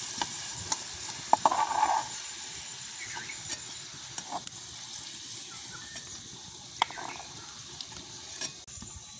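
Vegetables frying in a pan in a village kitchen, with a steady soft sizzle under scattered scrapes and clinks of stirring, fairly close, with no talking.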